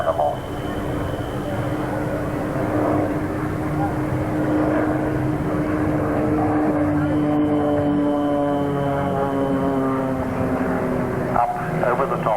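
Propeller aerobatic display planes with 180 to 200 horsepower engines drone steadily at the 1992 Humberside air show, their engine pitch sliding as they climb over the top of a formation loop, with a commentator talking over them.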